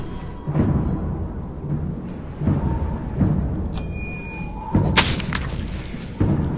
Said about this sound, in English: Time to break out the chain lightning again